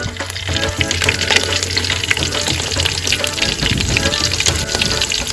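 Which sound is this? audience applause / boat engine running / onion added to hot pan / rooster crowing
onion added to hot pan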